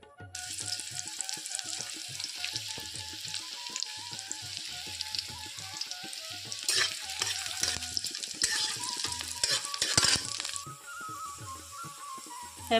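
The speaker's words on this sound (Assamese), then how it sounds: "এতিয়া মই পিঁয়াজ আৰু তেজপাত দুখিলা দি দিম।" Onion and two bay leaves sizzle in a hot kadai, a steady crackling fry with faint stirring scrapes, growing busier and louder midway before settling back.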